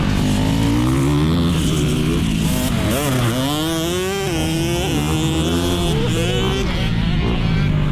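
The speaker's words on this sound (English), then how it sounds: "We revving." A motorcycle engine revs up and down in repeated rising and falling sweeps, loud and close, on a track during consecutive laps.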